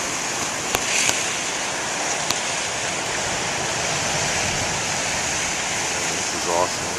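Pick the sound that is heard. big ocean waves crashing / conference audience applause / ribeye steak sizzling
big ocean waves crashing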